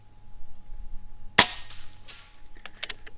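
A single sharp shot from a 2020 Benjamin Kratos .22 caliber air rifle cracks out, followed by a few faint clicks and light mechanical taps in a quiet room.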